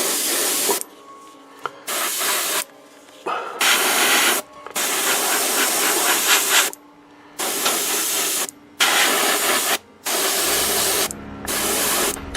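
Airbrush spraying paint from a compressor in repeated bursts of loud close hissing, each a second or two long and separated by short pauses, with a low compressor rumble near the end.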